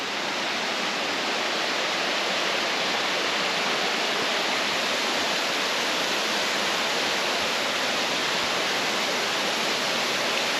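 A steady, loud roar of falling water rushes continuously from a nearby waterfall, broadband and unbroken with no other sounds.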